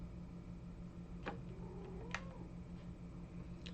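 A house cat gives a few faint, short meows, spaced apart over a quiet background hum.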